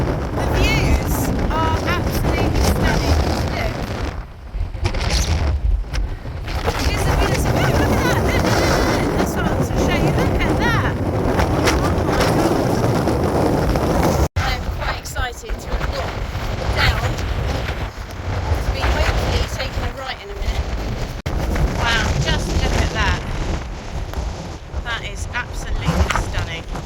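Strong, gusting wind roars and buffets the microphone on the exposed mountain ridgeline of Cnicht in rain, a loud continuous rush with brief lulls, and a voice speaks over it at times.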